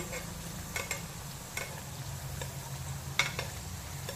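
Veg mini mughlai frying in oil over a medium flame, giving a soft steady sizzle with a low bubbling rumble and a few light scrapes or clicks scattered throughout.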